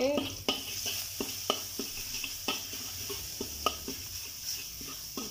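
Garlic and spice paste with ground pepper sizzles in a hot pan for vegetable spring rolls, with a utensil scraping and stirring in regular strokes about once a second over a steady frying hiss.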